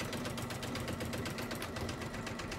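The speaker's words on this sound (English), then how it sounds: "I've got my walking foot on my sewing machine" An Elna Excellence 780 Plus sewing machine with a walking foot stitching a bag seam at short stitch length, a steady fast mechanical whirr with rapid needle pulses, close and continuous with no talk.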